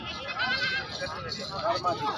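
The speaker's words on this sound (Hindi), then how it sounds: "ये नर मादी वाली जनाब बकरी है" A goat bleats at a livestock market, wavering calls repeating over steady crowd murmur and nearby talk, fairly close.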